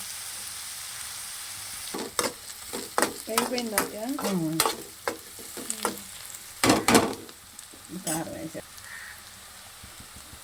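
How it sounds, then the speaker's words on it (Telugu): Steady sizzling of food frying in a pan until browned, with repeated scraping stirs and brief voices talking over it. "ఇవి బ్రౌన్ కలర్ వచ్చే వరకు వేయించుకుందాం"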